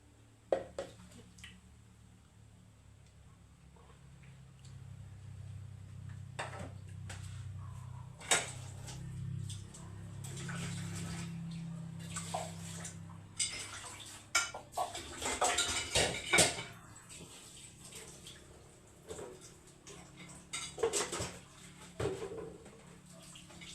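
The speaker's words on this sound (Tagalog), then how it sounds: "magugas na tayo ng plato" Plates being washed after a meal, scattered clinks and knocks of dishes and cutlery with some running water, close and intermittent, with no talk.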